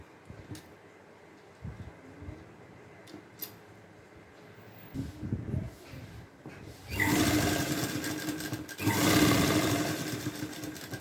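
A sewing machine runs along a fabric edge while a V-neck is stitched, first with a few faint clicks and short starts, then two loud, close bursts of steady motor whir and rapid needle stitching.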